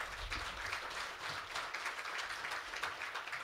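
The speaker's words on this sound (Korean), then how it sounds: "박수로 한번 모셔보도록 하겠습니다." Audience applause at a corporate founding-anniversary management strategy forum, welcoming the chairman to the stage: a steady, fairly faint wash of clapping from a room of listeners lasting a few seconds.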